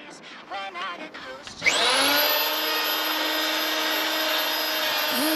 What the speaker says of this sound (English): So I've got my heavy duty paint buffer there, clean the head up on it, and we're gonna wazz over the headlight